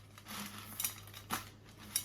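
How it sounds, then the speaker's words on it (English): Large Dollar Tree pebbles tumble into a lantern in a few scattered clattering bursts, near and moderately loud over a steady low hum, with no one talking. "So I'm going to take these pebbles and we're going to put them in the bottom."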